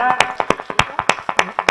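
An audience at a Shaheed Mela poetry event claps after a poem, with crisp, fairly sparse claps in a quick, uneven rhythm heard close and clear.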